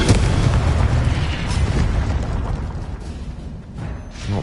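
A Confringo fire spell bursts in a Harry Potter video game, a loud, close explosive boom with rumbling debris that rolls on for several seconds.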